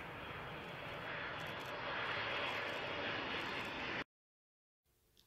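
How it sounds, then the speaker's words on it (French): A propeller airplane approaching an airport drones as a steady, dense engine roar, loud and constant for about four seconds before cutting off abruptly. "Un avion venant de Chine approche de l'aéroport."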